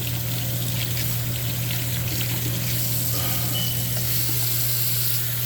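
Hot water runs steadily from a bathroom tap that stays only lukewarm, a continuous even hiss and splash with a low steady hum underneath, close by and without talk.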